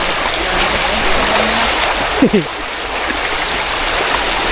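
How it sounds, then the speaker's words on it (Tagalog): A stream flows over rocks along a rocky riverside fishing spot, a steady broadband wash of running water that holds level throughout, with a brief faint sound rising over it near the middle. "Ganda ng agos dito."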